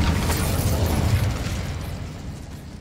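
Incendio fire spell cast in Hogwarts Legacy, a loud burst of whooshing flame that rumbles and then slowly fades, with no voices.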